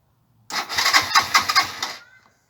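Suzuki GN 125 motorcycle engine cranking and starting, a loud rough burst of about one and a half seconds with rapid pulsing firing, then cutting out and leaving a faint fading tone.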